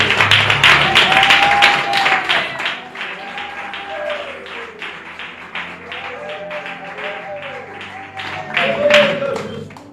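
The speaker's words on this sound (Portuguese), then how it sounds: "Palmas para Jesus, irmão. Palmas para Cristo Jesús, mis hermanos." Congregation clapping during a church sermon, a steady run of claps under a preacher's voice speaking throughout, with the clapping swelling near the start and again toward the end.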